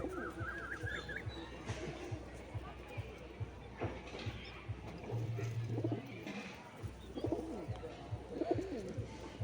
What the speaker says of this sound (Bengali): দেশি পায়রার বাচ্চা, এটা যেটা ডাক দিচ্ছে